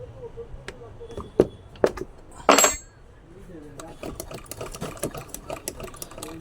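A sewing machine runs in short stretches after a jammed nut is loosened, giving clicking, rattling mechanical sounds with a few sharp metallic knocks, heard close, with someone speaking over it.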